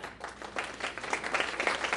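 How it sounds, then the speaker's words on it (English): A crowd applauds steadily at a realtors' association breakfast meeting for about two seconds, a dense wash of clapping hands without any talking. "I would like to give you a round of applause"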